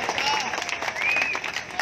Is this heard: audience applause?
yes